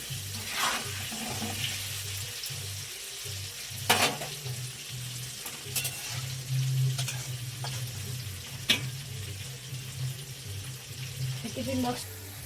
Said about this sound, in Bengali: আলু এই যে ভাজা হচ্ছে